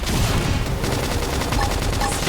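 Dense gunfire and bursts of combat effects from the video game Xenoblade Chronicles X, a steady loud barrage running throughout with a faint voice or two mixed in.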